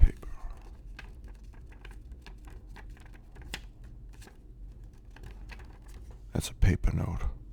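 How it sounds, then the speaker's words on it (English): A paper euro banknote handled up close in a quiet ASMR setting, giving soft crinkles and light taps throughout, with faint whispering and a louder rustle near the end. "That's a paper note."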